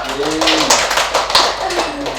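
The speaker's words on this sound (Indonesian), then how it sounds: "semuanya, silakan tepuk tangan dulu." A school class claps hands during a micro-teaching lesson: a brief burst of group clapping under and between voices speaking over it.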